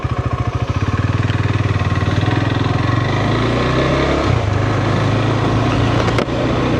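A KTM 390 Adventure motorcycle's single-cylinder engine rumbles close by on a test ride, pulsing loudly as it pulls away and builds revs, then settling into a steady drone with a brief dip near the end.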